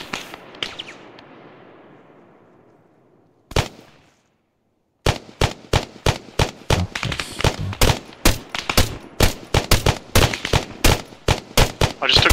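Arma 3 Antistasi gunfire: one distant shot fades into a long echoing tail, and after a short silence a long run of sharp, loud rifle shots follows in quick, uneven bursts.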